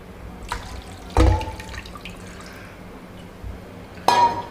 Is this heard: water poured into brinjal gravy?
yes